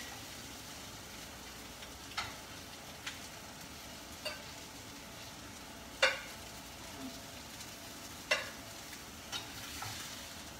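Honey mustard bacon chicken frying in a pan with a steady sizzle, a spatula scraping and stirring in a few sharp clicks and scrapes spaced through the cooking.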